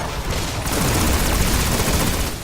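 Pulse rifle gunfire in the video game Destiny sounds as a dense, continuous burst of loud shots and booms against goblin enemies, filling the whole moment without pause.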